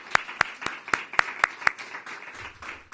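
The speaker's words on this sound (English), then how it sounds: "join me in a round of applause for all of our partners" An audience applauds at a school guide launch event, with a handful of sharp, distinct claps standing out close by at first before easing into a softer, scattered patter.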